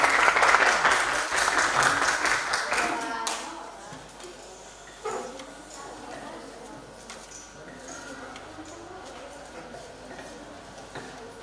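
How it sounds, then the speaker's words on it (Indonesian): A classroom audience claps for group 5: brisk, loud applause for about three seconds, then it thins into a few scattered claps and taps with faint murmuring beneath. "Ya, berikan semangat untuk kelompok 5. Tepuk tangan dulu."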